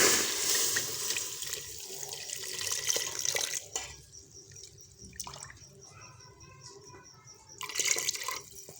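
Milk is poured into a pan for kheer in a home kitchen, a splashing liquid stream that runs in bursts, loud at the start and returning near the end, with quieter dripping between.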